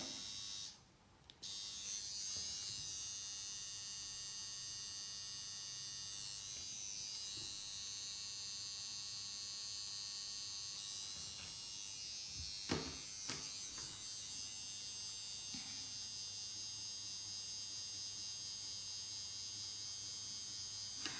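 A permanent makeup machine fitted with a capillary needle runs at speed 100, giving a faint, steady electric buzz that lasts almost throughout, with a few brief clicks and no talking.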